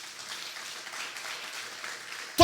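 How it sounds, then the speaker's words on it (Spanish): A church congregation applauds the Lord during a pastor's sermon, a soft, steady patter of clapping from a gathered crowd, fairly faint and distant, ending with a brief louder sound. "Denle un aplauso al Señor, amado."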